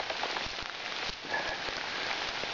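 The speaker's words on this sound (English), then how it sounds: "get this camera out of the rain some more" Rain falls steadily through the woods, a dense, even patter of drops on leaves and bark that stays close and constant. There is no talking.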